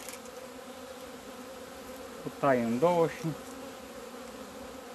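Honeybees at a hive during February feeding with a soft protein patty give a steady, low buzzing hum throughout, with a short stretch of talk in the middle.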